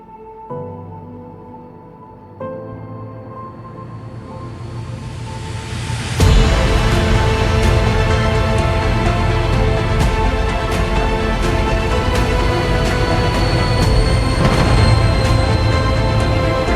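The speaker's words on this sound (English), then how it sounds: "The train crashed into the rear of the Tiguan with incredible force." A train slamming into the rear of a Volkswagen Tiguan in the BeamNG.drive video game: a horn-like tone builds, then a sudden loud broadband crash gives way to sustained grinding, scraping noise and sharp metallic bangs.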